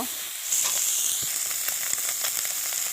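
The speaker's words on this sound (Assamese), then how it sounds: "এয়া মই লৰাই আছোঁ। যেতিয়ালৈকে তেল নোলায় তেতিয়ালৈকে লৰাই থাকিব।" Pork fries in a pan without added oil or spices while being stirred, giving a steady, close sizzle with faint scraping as the fat renders out. No one speaks.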